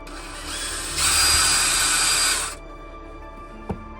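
A power drill runs in a steady whine for about two and a half seconds while boring holes through a camera mount during a van build, rising in pitch mid-run before cutting off, with a faint knock afterward.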